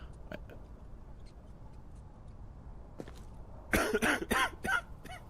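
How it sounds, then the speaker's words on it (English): A burst of several harsh coughs in quick succession from a character in the video game Zombie Checkpoint, preceded by faint ticks and clicks in a quiet room. "He's coughing like crazy"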